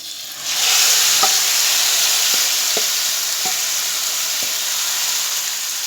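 Marinated chicken with deggi chilli hits a pan on high flame, erupting into a loud, sustained sizzle close by, with a few light spoon taps over the hiss.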